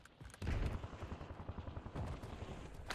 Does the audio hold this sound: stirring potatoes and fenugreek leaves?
no